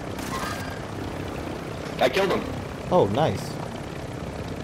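A helicopter hovering in Warzone 2.0 keeps up a constant close rotor drone, with short bursts of player chatter on top.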